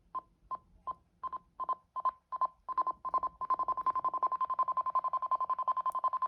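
Small connected synthesizer sound modules emit short beeping tones in a steady pulse, the pulses quickening into a rapid repeating chain of stepped pitches, clean and electronic.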